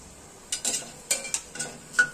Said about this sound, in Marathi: खडा मसाला चांगला भाजला।